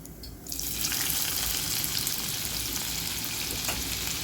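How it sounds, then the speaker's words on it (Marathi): After a short quiet moment, onion, cumin seeds and leaves hit hot oil left from frying and break into a loud, continuous sizzle that holds steady with light stirring, no one speaking. "कांद्याचा कलर चेंज होईपर्यंत याला परतून घ्या."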